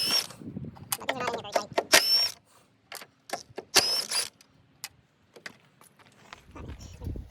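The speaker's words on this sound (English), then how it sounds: "I'm using my impact gun" Short bursts of a pneumatic impact gun spinning 13mm bolts off an 1986 Chrysler LeBaron K car, several quick rattling runs in the first few seconds, then scattered clicks and handling noises with long quiet gaps.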